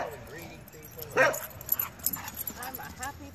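A shelter dog barks once sharply, then whimpers and yips in short, excited bursts close by, while a person talks to her throughout.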